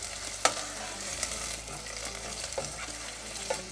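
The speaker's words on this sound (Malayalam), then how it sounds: "അതുവരെ നമുക്കിതൊന്ന് സോട്ടേ ചെയ്യാം" Onions sauté in a pan with a steady, close sizzle, while a utensil stirs them and taps now and then.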